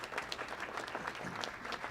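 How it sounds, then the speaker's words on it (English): Audience applause at a panel talk on the Syrian civil war, dense continuous clapping from a room of people, fairly soft and steady throughout. "how about a round of applause"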